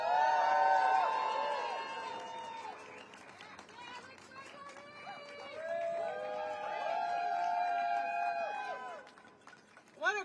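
A crowd at an outdoor rally for consumer bureau employees cheers and whoops with scattered clapping, a sustained swell of many voices that fades and then rises again, with people talking among it.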